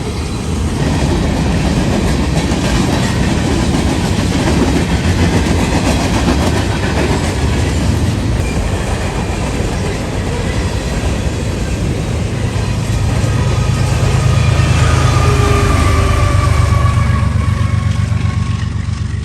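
A Norfolk Southern freight train, number 178, passes eastbound at Spring Valley Road near London, loud and close, with a continuous rumble and rail clatter that deepens as the engine sound swells later on.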